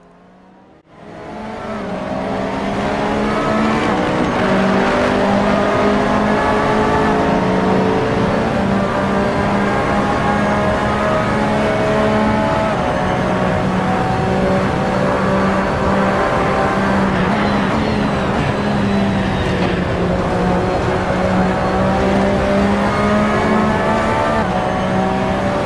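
A race car climbs a mountain road in a sim racing game, its engine droning loudly and continuously with rising and falling pitch through gear changes, starting after a brief quiet moment.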